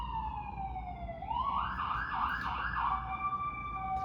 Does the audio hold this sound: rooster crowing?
no